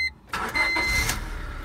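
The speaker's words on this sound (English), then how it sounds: "car starts, just like that" A 1999 Honda Civic engine catches and settles into a steady idle after a brief crank, loud and close with no voices.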